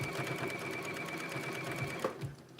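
A serger overlocking fabric with a steady fast mechanical whir that runs close and continuous for about two seconds before slowing and stopping.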